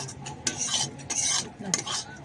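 A spoon scrapes and stirs through a thick flour mixture frying over low heat for soan papdi, irregular strokes with soft frying noise underneath, close by and steady.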